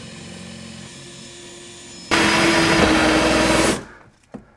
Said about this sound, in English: I'm also going to have to drill a small hole through the back of our shelf